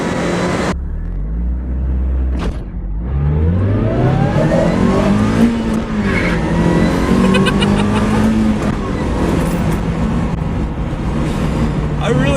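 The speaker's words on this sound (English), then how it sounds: "I really hope the supercharger whine is coming out clear on the audio because it's so loud in person" A supercharged Mazda Miata accelerates hard through the gears, its engine note and a rising supercharger whine climbing and dropping with each shift, loud and close, with a voice talking over it.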